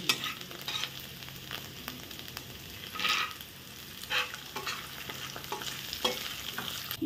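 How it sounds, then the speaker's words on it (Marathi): Whole peanuts fry in a hot oil tempering, giving a soft continuous sizzle broken by scraping stirs and small clatters at irregular intervals, close by and with no voices. "इथे मी आता अख्खे शेंगदाणे घातले फोडणीत"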